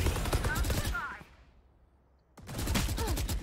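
Bursts of rapid LMG fire in Valorant, a dense rattling stream that cuts off for about a second of near-silence and then resumes just as loud and close.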